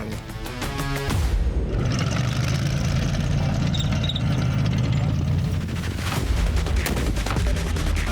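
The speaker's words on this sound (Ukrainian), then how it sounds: "Гранатометник відпрацьовує РПГ по імітованих ворожих позиціях." A loud blast of RPG grenade launcher fire during a firing drill opens into a sustained roar of explosive, rumbling noise, with sharp cracks and booms continuing throughout.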